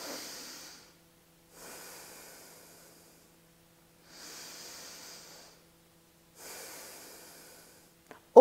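Four slow, deep breaths follow one another, each a long airy rush of air separated by quiet pauses, close and alone, ending with a brief sharp knock.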